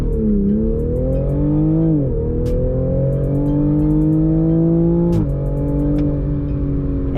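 A Lotus Emira V6 sports car drives and accelerates, engine droning loud and close with rising pitch through repeated gear changes, clear shift breaks between, no talk.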